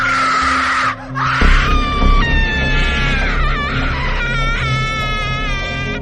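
A man's loud, harsh scream rises suddenly after a brief drop, sustained and wavering over a low rumbling background, with no talking, in a Hindi horror story.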